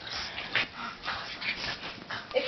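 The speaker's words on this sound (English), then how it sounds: "that was 3 minutes of dog fights with my dog" Two dogs play fighting indoors, giving off scattered yips, whimpers and breathy growls in short bursts, fairly close and moderately loud, with no talk.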